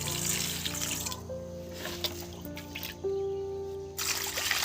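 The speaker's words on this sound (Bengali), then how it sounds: "জল দিয়ে দাও।" Water poured into a bowl while making cauliflower pakora, a steady trickle with faint tonal kitchen sounds, close and moderately loud, with no talking.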